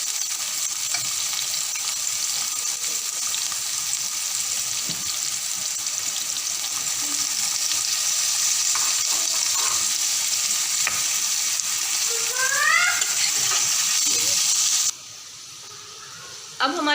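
Chicken and vegetables fry in a pan for chicken Manchurian, a loud continuous sizzle with stirring clatter throughout, then dropping away sharply near the end.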